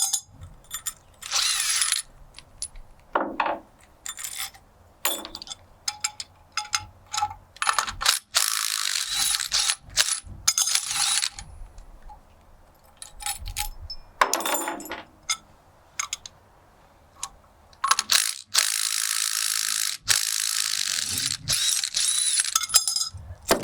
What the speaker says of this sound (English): so we'll loosen our nuts